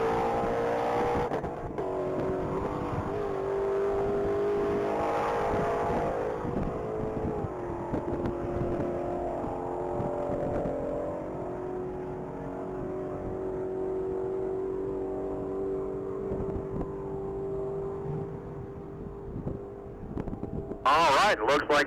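An orange 2020 Ford Shelby GT500 accelerates down a mile-long top-speed racing course, its engine a sustained loud roar that climbs in pitch and then holds steady for about twenty seconds, with wind noise and a commentator talking over it.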